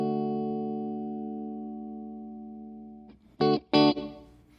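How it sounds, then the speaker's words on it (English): Dry electric guitar through an amp with no reverb pedal: one chord rings and slowly fades for about three seconds, then two short, sharp strums follow close and clear. "this is the sound of the guitar through the amp"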